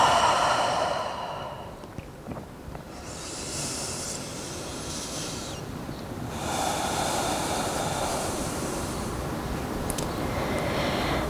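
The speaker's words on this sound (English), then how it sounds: "Cleansing breath whenever you need." A long, audible cleansing exhale during a yoga flow, heard as a breathy hiss that fades, with a second airy breath sweeping in later and holding steady.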